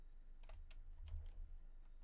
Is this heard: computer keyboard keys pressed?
yes